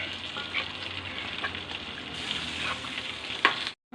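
Thripunithura-style chicken curry hisses and sizzles in a pan as it is stirred, a steady close frying noise with occasional light scrapes before it stops abruptly.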